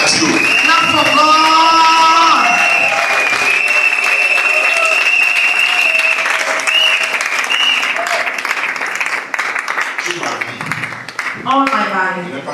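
Continuous applause from a church congregation rolls on for several seconds, loud and crowded. It thins and breaks up toward the end as voices talk over it.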